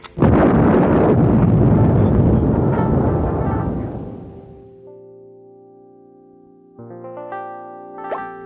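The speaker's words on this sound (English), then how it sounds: "there are some real fun effects you can have clearing your screen. This one's firecracker." Kid Pix's firecracker screen-clearing effect: a loud crackling burst of popping explosions that fades away, followed by a low synthetic hum and a few bright electronic tones.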